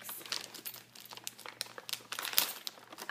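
Plastic packaging from a clothing haul crinkles and crackles up close as a key is jabbed through it, giving irregular sharp rustles and small tearing pops, fairly quiet and with no talking.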